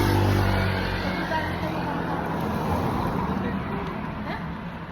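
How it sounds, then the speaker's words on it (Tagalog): Steady roadway noise from highway traffic crowded with motorcycles, a continuous wash of passing engines heard close by, slowly fading toward the end. "kaya maingay, daming motor eh."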